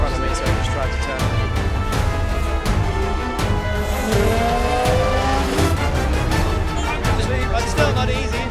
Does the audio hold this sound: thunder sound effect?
no